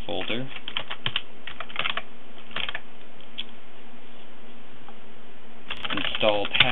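Quick clusters of clicks from a computer keyboard being typed on, close and crisp, coming in short bursts with pauses between them and a final flurry at the end.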